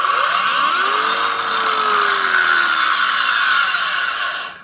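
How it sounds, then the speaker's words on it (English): A Metabo 9-inch (230 mm) cordless battery angle grinder runs loud and close with a steady high whine, its pitch sliding up as it spins up and easing back down before cutting off at the end. "this 9-inch or 230mm battery grinder by Metabo"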